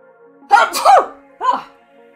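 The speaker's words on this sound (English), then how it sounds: "Oh my god, I'm really gonna... Oh, please don't sneeze." A single loud, close sneeze bursts out with a sharp double onset, followed a moment later by a shorter second sneeze-like burst, with no talk around it.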